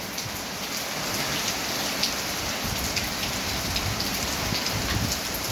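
Heavy rain pouring during Typhoon Uwan, a steady dense hiss of drops drumming on surfaces, loud and unbroken throughout with no talk.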